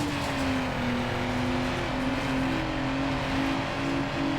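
A Nissan GT-R in the Need for Speed Underground racing game holds a steady, loud engine drone with sustained revving and a rising and falling pitch, plus faint background music, no voices.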